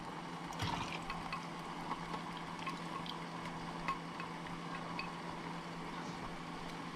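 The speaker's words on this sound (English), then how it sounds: "Now I'm going to pour my mixture in here, my egg mixture." Beaten egg mixture for homemade banana pudding pours into a bowl, a soft steady liquid trickle close by with faint kitchen hum and a few small clinks.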